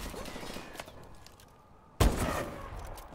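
A single loud, sharp sniper rifle shot in Call of Duty: Advanced Warfare multiplayer rings out after a quiet stretch of low game ambience, then a short echoing tail follows.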